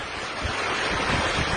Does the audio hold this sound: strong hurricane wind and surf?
yes